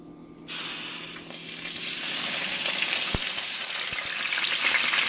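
Fries sizzle steadily in too much oil in a pan, a continuous bright crackling hiss that starts abruptly and grows slightly louder, with a few soft clinks and no talking.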